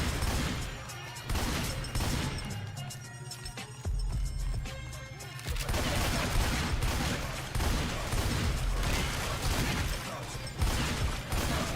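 A combat shotgun firing repeatedly against zombies in the video game Left 4 Dead 2, a dense barrage of booming blasts and crashing impacts with continuous loud game noise throughout.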